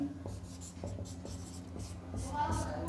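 Marker writing on a board during a geometry lesson on triangles, faint squeaky strokes in short bursts under a low room hum, with someone speaking quietly in the background.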